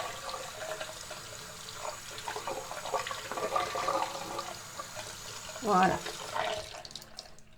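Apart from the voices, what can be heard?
running hot water from a tap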